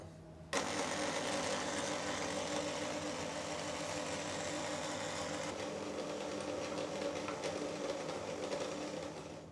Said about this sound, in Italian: con un gancio lo mettiamo a impastare lentamente